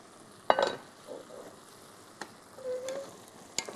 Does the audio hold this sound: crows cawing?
no